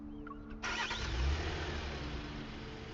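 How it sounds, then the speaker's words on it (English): A car engine in the Love and Deepspace video game turns over and settles into a steady low hum, faint and distant-sounding, with no talking over it. "the faint hum of a car drifts from the cemetery and extends over the wall"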